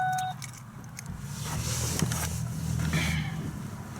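A 2009 Ford Fusion SE engine idles with a low rumble, then shuts off, leaving faint clicks and rustles, with a short beep at the start.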